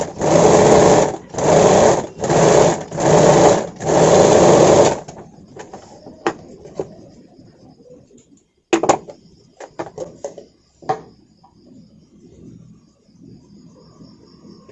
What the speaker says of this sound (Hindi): फिर इस साइड से हम सिलाई करेंगे।